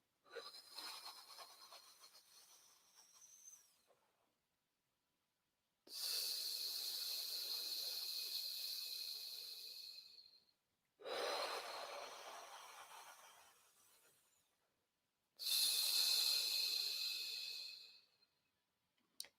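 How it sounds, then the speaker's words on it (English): Slow controlled breathing for static apnea practice, with about four long airy breaths alternating in and out, each roughly five seconds, close and hissing, separated by short silent gaps. "find peace in every inhalation, find peace in every exhalation"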